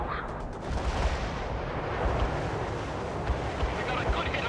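A heavy artillery barrage in the video game World in Conflict, Soviet assault mission, rumbles continuously with dense overlapping booms and gunfire. Voices come through faintly beneath it.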